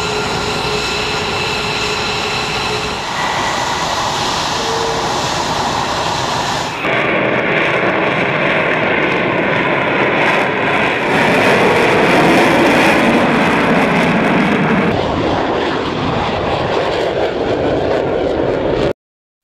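US Air Force F-22 Raptor fighter jets take off one after another at an air base, a loud, steady roar of jet engines that holds for the whole stretch with no voices.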